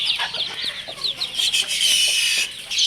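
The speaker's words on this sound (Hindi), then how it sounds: "ये मुर्गी तमाम चूज़ों को इसी के पीछे लेके बैठी हुई है।" A hen with her chicks gives soft, repeated clucks, while high, rapid peeping chirps from the chicks run throughout, close and fairly loud.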